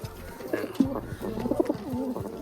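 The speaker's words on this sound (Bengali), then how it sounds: "এ দুটো নতুন দেখো পায়রা দুটো তোমাদেরকে আমি দেখায়" Pigeons coo close by in repeated low, throaty bursts, several calls overlapping in a soft rolling rhythm, with faint background noise and no clear speech.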